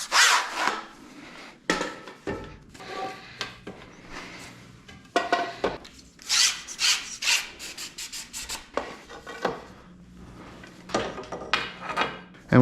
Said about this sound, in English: So what I'm gonna do right now is go through this whole pole and basically just wipe all the sections down